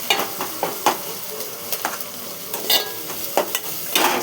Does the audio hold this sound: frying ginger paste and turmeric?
yes